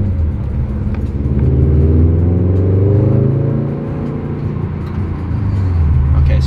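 Car accelerating while driving through town, heard from inside: a loud, steady engine drone and road rumble that rises in pitch and then eases off, then climbs again.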